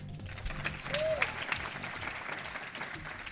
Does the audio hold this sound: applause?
yes